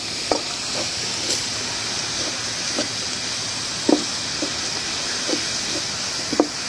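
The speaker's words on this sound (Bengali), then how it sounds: "রসুন পেঁয়াজটা একটু ভালো করে ভেজে দিতে হয়" Garlic and onion frying in a pan before beef is added, a soft steady sizzle near at hand, punctuated by about a dozen light scrapes and taps of a spatula.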